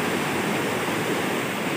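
Steady, full-band rush of river water flowing close by near the Ciparay hot springs at Gunung Bunder, Bogor, a continuous loud wash with no breaks and no voices.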